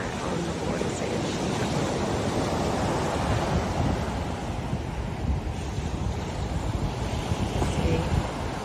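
Surf breaking steadily at the water's edge on Yanchep Beach, Western Australia, on a chilly winter day, a continuous broadband wash of waves mixed with gusty wind buffeting the microphone, with no voices.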